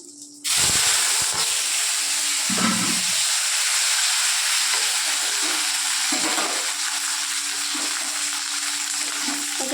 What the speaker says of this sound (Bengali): সেই সবজিগুলো কড়াতে দিয়ে দেবো